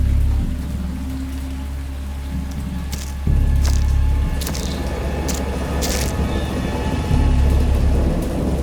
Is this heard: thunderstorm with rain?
yes